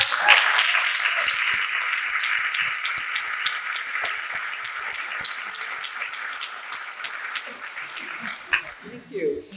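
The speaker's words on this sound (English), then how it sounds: "a big round of applause for our panelists" A room full of people gives a sustained round of applause for panelists at a national meeting, dense clapping that holds steady for most of the clip before thinning out, followed by a brief voice.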